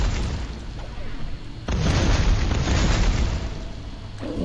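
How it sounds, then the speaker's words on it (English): Plasma bombs explode in the video game Space Grunts 2, giving several heavy booming bursts, with one big blast midway that leaves a sustained roar, loud and close. "these plasma bombs that are spread around the level are very good to use"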